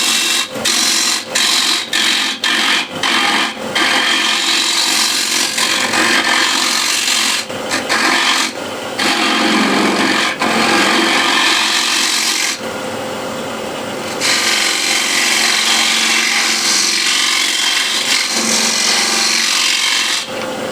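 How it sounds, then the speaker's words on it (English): A spindle gouge cuts the foot of a large wooden bowl on a spinning wood lathe, a loud continuous scraping and rasping with repeated short interruptions and brief pauses as the tool is lifted, close and without talking. "Spindle gouge, I want to refine the foot here a little bit."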